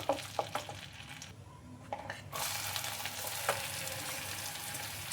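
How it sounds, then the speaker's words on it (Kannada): Finely chopped onions frying in a pan, with a few light stirring clicks at first, then a steady, fairly quiet sizzle that swells and holds after a brief lull, heard close with no speech. "ಇದು ಸ್ವಲ್ಪ ಗೋಲ್ಡನ್ ಬ್ರೌನ್ ಬರೋವರೆಗೂ ಸ್ವಲ್ಪ ಫ್ರೈ ಮಾಡ್ಕೊಳ್ಳಿ"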